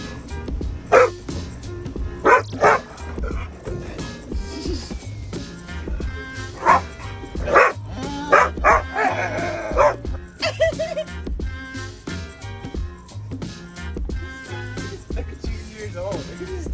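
A small, very excitable dog barks and yips repeatedly in short bursts at close range, under and between talk and other household noise inside a family's RV.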